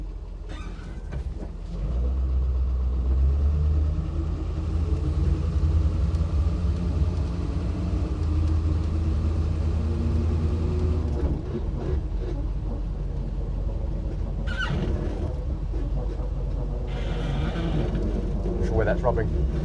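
A Land Rover Series 2A engine runs steadily while the vehicle drives on its first outing, a loud low rumble that holds throughout with voices speaking over it.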